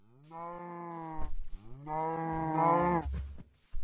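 Two long, drawn-out cow moos in a row from the video game Minecraft's Better Than Wolves mod, deep and resonant, close by, with faint shuffling noises between and after.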